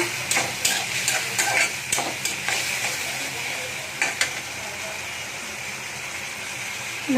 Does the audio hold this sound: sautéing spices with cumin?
yes